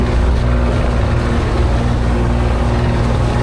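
Strong wind at sea roars steadily in a dense, unbroken rush of noise, loud and close, with no other sounds standing out.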